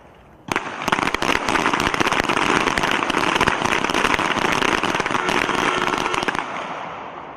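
A team pistol match at the U.S. Army Small Arms Championships erupts into a dense, continuous crackle of pistol shots from many shooters at once, loud and close, holding steady for several seconds before tapering off.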